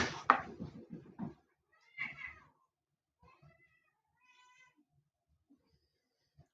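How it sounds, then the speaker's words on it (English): Pet cats meow in the background of a quiet room, with a cluster of voice-like sounds at first, then a few separate meows and faint calls fading out with silence between. "Do you hear my kitties in the background?"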